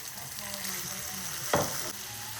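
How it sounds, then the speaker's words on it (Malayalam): Minced beef frying in a pan with ginger and garlic, a steady soft sizzle with one brief stir or scrape partway through, no voices. "നമുക്കിതിലേക്ക് മിൻസ്ഡ് ബീഫ് ചേർത്ത് കൊടുക്കാം."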